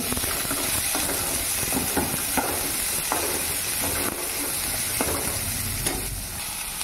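Chopped onion and capsicum sizzle and hiss in a hot pan, with a steady frying crackle and several soft scraping stirs at regular intervals, with no talking.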